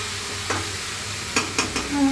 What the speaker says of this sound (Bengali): নাড়াচাড়া করি